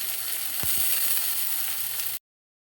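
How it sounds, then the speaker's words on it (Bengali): Onion and garlic fry in hot oil with a steady bright sizzle and light crackle, close and continuous before cutting off abruptly. "পেঁয়াজ রসুন দুটোই লাল করে একটু ভেজে নেব।"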